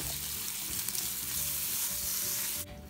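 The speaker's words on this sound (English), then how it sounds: "we're just sauteing a little bit of meat and onion before we put the egg in" Meat and onion sauteing in oil in a cast iron pan, a loud steady sizzle and crackle close up that drops away suddenly near the end.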